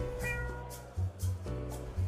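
Cat meowing in the Cat President video game: a few short, clear meows spaced about half a second apart over a low, pulsing game background, moderately quiet and with no talk.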